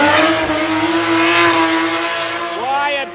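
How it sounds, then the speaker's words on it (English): BMW drift cars rev hard at a drift championship practice round in Cyprus, a loud sustained engine howl with pitch swings and a rising rev near the end, close by with crowd noise. "Why are BMW so loud?"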